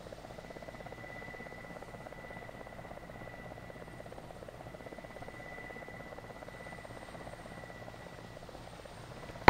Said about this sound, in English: Chopper is landing.